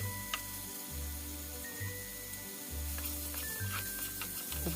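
Chopped tomatoes stirred and sautéed in a pan, a soft steady sizzle with occasional scraping ticks, faint and under a low rhythmic background hum.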